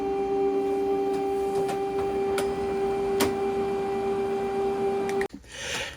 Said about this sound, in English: wait for the printer to calibrate the cartridges